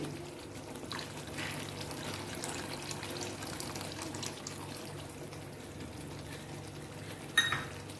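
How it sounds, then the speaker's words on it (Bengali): Milk is poured into a pot of katla fish curry with banana blossom, a soft continuous liquid pour and gentle bubbling, with a brief sharper splash near the end. "এখন আমি এটার মধ্যে দুধ দিয়ে দিচ্ছি।"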